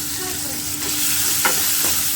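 Salted food fries in a hot pan with a loud, continuous sizzle and stirring scrapes close by, plus a couple of brief clinks near the end.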